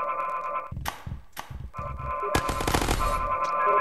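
Gunfire crackles in the Happy Wheels game in bursts of rapid sharp shots, separated by short pauses at first and then running into a denser, louder barrage near the end, with no voices over it.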